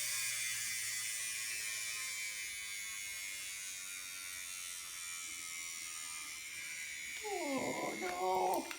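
A small DC motor on a 3D printed gyro runs with a faint, steady high-pitched whir. A voice speaks briefly over it near the end.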